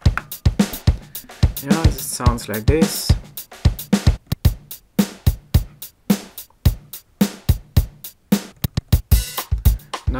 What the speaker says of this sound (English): it has standard rhythms which you can start and stop using these 2 buttons.